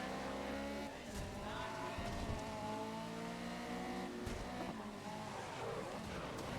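Race cars roar and whine in the Grid racing game, engines layered in a dense pack with brief tire squeals and skids, continuous and fairly loud throughout.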